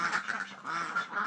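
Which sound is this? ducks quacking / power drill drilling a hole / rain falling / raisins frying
ducks quacking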